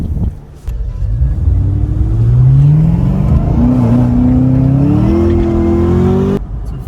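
A Chevrolet Camaro ZL1 driving and revving, a loud, close engine rumble that climbs steadily in pitch as it accelerates for several seconds, then cuts off abruptly.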